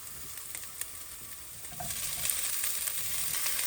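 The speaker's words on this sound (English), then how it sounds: "Next we'll add our peppers in here. So now in go the peppers" Peppers hit a hot pan on medium heat for shakshuka, giving a steady, soft hiss that builds slightly and holds, with a few faint clicks over it.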